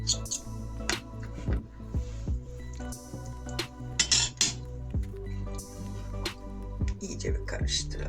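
A spoon stirs a thick honey and cocoa face mask paste in a bowl, with frequent clinks and soft scrapes close by in an uneven rhythm, as someone talks over it.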